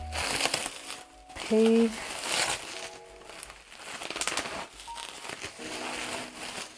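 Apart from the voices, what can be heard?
bubble wrap being handled while unboxing a package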